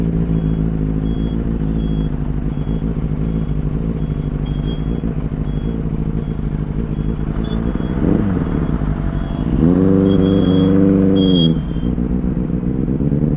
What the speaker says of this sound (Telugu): ఫుల్ ట్రాఫిక్ జామ్ అవుతున్నది.